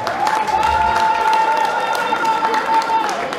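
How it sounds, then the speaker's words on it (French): An audience claps at a best-sapeur contest during the Nuit de la Sape 2017 in Washington, a steady wash of crowd applause lasting throughout with a voice mixed in. "applaudissez pour des gens, s'il vous plaît"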